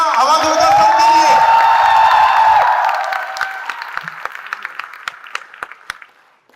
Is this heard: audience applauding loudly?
yes